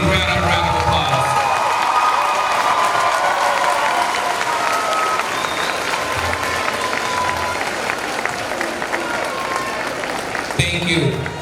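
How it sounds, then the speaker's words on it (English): A high school graduation crowd gives sustained, loud applause mixed with cheering, steady throughout and tapering briefly near the end. "Let's give Brianna a round of applause."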